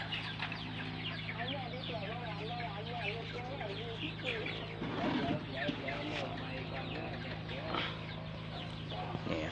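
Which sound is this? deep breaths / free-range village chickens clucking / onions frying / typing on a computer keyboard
free-range village chickens clucking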